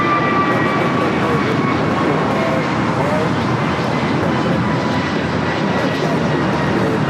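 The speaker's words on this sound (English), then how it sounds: "This is American Airlines Flight 59 taking off to Kailua Kona on the A321neo." An American Airlines A321neo takes off at Los Angeles airport with a steady, loud jet engine roar that fills the whole stretch.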